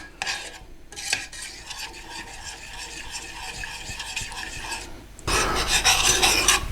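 A spoon scrapes and stirs a peanut satay sauce made with Jimmy's Sate as it warms and thickens in a pan, steady close scraping strokes that turn to louder sizzling near the end.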